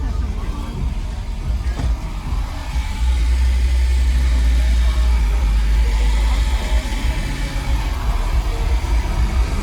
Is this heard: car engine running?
yes